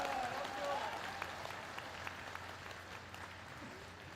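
Scattered applause and clapping from a homecoming crowd welcoming the returning president in his home village, fairly faint and distant, with crowd murmur and a voice briefly heard in the background.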